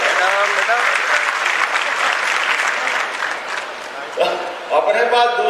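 Rally crowd applauding loudly and steadily for several seconds, a dense wash of clapping that dips briefly before surging again near the end, with a voice cutting in over it at the close.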